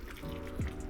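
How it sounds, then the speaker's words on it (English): Water is squirted onto a potted plant, giving one faint, soft drip-like splash against a quiet indoor background. "how exciting is watching somebody squirt some water on a plant"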